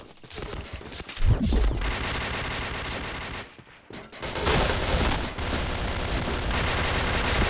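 Spectre submachine gun fire in the shooter game Point Blank, dense rapid bursts and fusillades, loud and continuous, with a brief pause partway before firing resumes.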